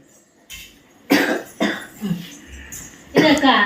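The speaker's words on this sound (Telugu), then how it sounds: "లేచినాడన్నా దగ్గు వచ్చింది" A child coughs several times in short, separated bursts, close by, with brief throat-clearing sounds between the coughs.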